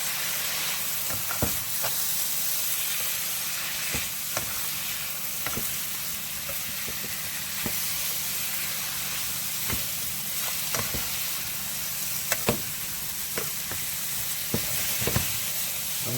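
Chicken and shrimp stir fry with soy sauce sizzles and hisses steadily in a hot pan, broken by scattered sharp scrapes and taps as it is stirred.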